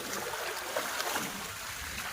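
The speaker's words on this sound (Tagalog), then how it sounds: "Lakas ng hangin." Strong wind gusting outdoors beside a body of water during bad weather, a steady broadband rush with a few louder gusts, close and continuous, with no talk.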